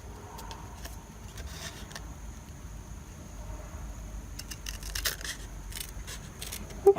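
Scissors trimming around paper for a junk journal page, a series of quiet snips that cluster into quicker cuts toward the end over a low background hum.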